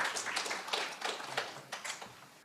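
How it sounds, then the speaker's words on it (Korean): Light applause greets a speaker at a workplace-innovation academy event. The claps are faint and scattered, coming in small irregular bursts from a modest audience, with no talking. "큰 박수로 맞아주시기 바랍니다"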